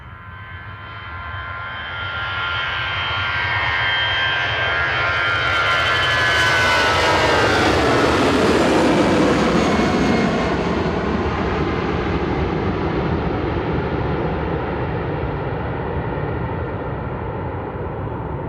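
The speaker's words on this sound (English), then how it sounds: "EasyJet heading out to Jersey here" An EasyJet airliner takes off from Manchester Airport bound for Jersey, its jet engines swelling into a loud, close roar that peaks midway and then holds as a broad rumble while the plane climbs away.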